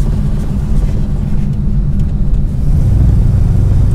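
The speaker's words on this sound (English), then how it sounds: "now we'll roll up the window so you can hear what it sounds like with the windows up" A steady, fairly loud low rumble of road and engine noise fills the interior of a car being driven with the windows rolled up. The rumble stays constant throughout and no one speaks.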